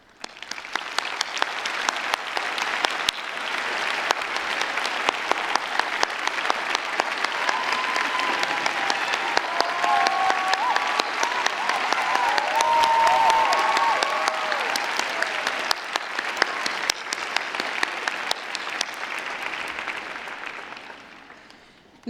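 An audience at a 2019 art school commencement ceremony applauds at length, a dense steady patter of many hands clapping that swells, holds, then tapers off toward the end.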